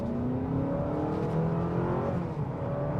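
A 2025 Honda Accord Hybrid Touring accelerates at about half throttle, a smooth rising engine hum over road noise, heard steadily from inside the car.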